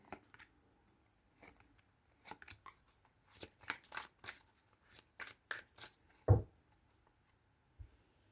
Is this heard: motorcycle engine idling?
no